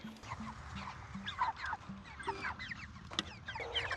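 Chickens in a movable coop on a garden plot: a series of close, soft clucks and short murmuring calls with repeated rhythmic notes, under light background bird chatter.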